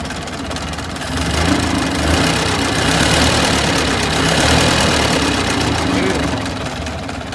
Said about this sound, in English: How nice and smooth this engine is.